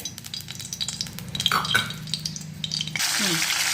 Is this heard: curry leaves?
yes